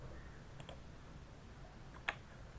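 A computer mouse clicks a link, with a couple of faint soft clicks and then one sharper, close click against a quiet room hum.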